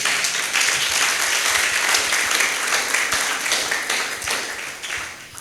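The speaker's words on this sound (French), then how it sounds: "Est-ce qu'on peut acclamer le Seigneur?" A church congregation bursts into loud, sustained applause acclaiming the Lord, dense clapping filling the room steadily for several seconds before easing slightly at the end.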